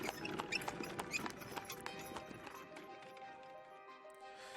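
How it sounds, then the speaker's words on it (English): Carriage wheels and horse hooves clatter on cobblestones in a yard in a video game, a faint, steady clip-clop with rolling wheel rumble that gradually thins out. "You hear the sound of wheels and hoofs against cobble in the yard"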